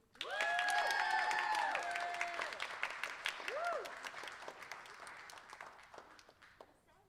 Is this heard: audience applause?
yes